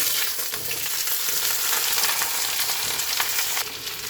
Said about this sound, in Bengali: এবার আমি আলুটা ভেজে নেব